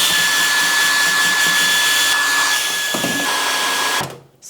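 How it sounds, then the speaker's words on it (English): A hair dryer blows steadily and loudly on freshly de-rusted parts of an old vise, a constant close whir that cuts off near the end. "I'm going to blow dry them a bit, just to get every last bit of moisture out"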